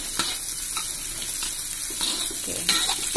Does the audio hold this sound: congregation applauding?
no